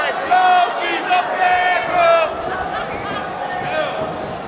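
A wrestling crowd at an independent pro match roars steadily in the background while a commentator talks over the noise, with the cheering swelling in brief surges.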